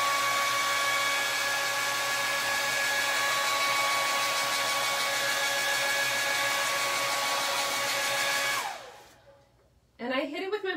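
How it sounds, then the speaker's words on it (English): A blow dryer roars steadily at close range for several seconds while drying paste on a dollar-store garden pot, then switches off and winds down, followed by a brief voice. "I'm gonna hit it with my blow dryer"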